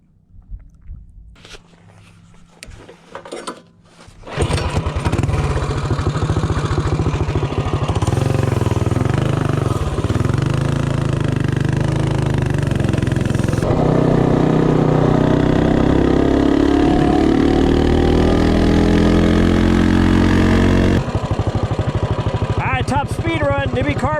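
A Predator 224 small engine fitted with a NIBBI carburetor roars at full throttle on a top speed run, loud and close, rising and holding steady for about twenty seconds after a few quieter seconds of handling noise.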